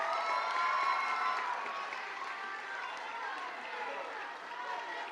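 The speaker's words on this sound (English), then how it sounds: "Please give them one last round of applause." Audience at a junior high academic awards ceremony giving students a final round of applause, steady dense clapping with some cheering that holds loud for several seconds in an indoor hall.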